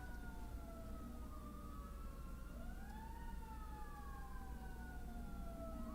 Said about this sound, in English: Some goddamn sirens going on.